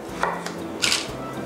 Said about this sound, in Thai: ซุกินี่ของผมผมหั่น ฉลับ ฉลับฉลับ